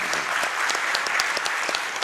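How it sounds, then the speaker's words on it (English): A crowd clapping in steady applause at a Games Done Quick speedrunning event, dense and continuous with distinct individual claps, no voices. "let's give him a quick round of applause for that"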